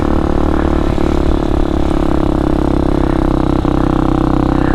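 An X-Pro Hawk DLX 250 dirt bike engine drones loudly and continuously while being ridden, with a steady rumble and some rattling throughout and no talking.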